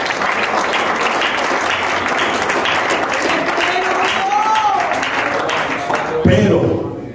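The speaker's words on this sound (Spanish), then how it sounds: "Dale un fuerte aplauso a Cristo." Church congregation applauding during a Spanish-language sermon, a dense steady wash of clapping lasting throughout, with voices and shouts mixed in and a louder swell near the end.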